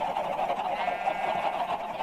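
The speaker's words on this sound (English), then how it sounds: "that horrible noise is being made by all of our mature chickens" Mature chickens in Minecraft glitching and making a harsh, continuous honking squawk, loud and close, with several birds overlapping and no pauses.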